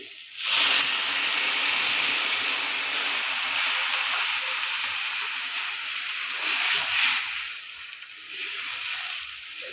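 Water poured into a hot pan of chutney sets off a loud, steady hiss and sizzle of rising steam that carries on unbroken, easing slightly toward the end.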